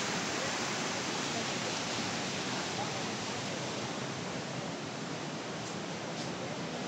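Water rushes over the weir at Randha waterfall, a dense, even roar of heavy flow that holds steady and loud for the whole stretch.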